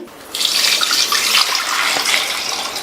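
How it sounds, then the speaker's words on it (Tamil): Water pours in a steady splashing stream into a metal pressure cooker holding potatoes, close by, starting abruptly and continuing without a break. "கிழங்கு முங்குற அளவுக்கு தண்ணி சேர்த்தாச்சு."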